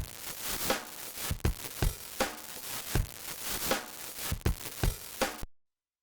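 Sandpaper-style wave-shaping distortion from an iZotope Trash 2 preset crunches over a percussive loop, gritty broadband hits in a steady rhythm, quiet overall, cutting off abruptly before the end.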